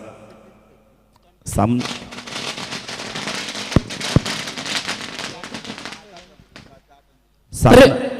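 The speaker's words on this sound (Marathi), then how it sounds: "फटाक्यांच्या आतिषबाजीने पाहुण्यांचं सातत्याने स्वागत केलं जातं" A loud bang sets off a long run of rapid crackling firecracker pops lasting several seconds, then a brief lull before another sharp burst, set off to welcome guests at a local cricket tournament.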